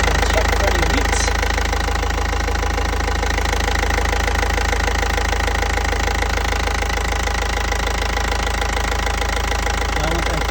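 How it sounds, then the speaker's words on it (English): A Yanmar diesel engine runs steadily and loudly throughout after an oil change, with a continuous low rumble and a rhythmic knocking clatter. "I start the engine, I'll check for any leaks."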